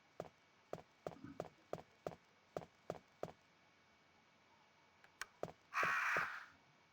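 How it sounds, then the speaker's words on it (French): Crows caw in the Resident Evil manor game, a string of about a dozen sharp, evenly spaced caws at moderate distance, ending in a short burst of noisy rustle. "Sous l'œil menaçant des corbeaux."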